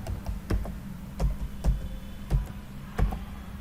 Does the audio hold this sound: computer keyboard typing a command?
yes